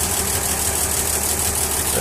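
A Bedford SB3 bus diesel engine idles steadily up close, a continuous rumbling drone with broad hiss, running alone with no talk.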